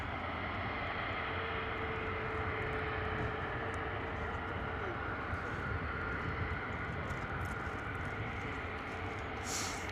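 Airbus A321neo jet engines roar loudly and steadily at close range, a continuous broadband rumble with a faint rising whine, as the airliner holds and spools up on the runway.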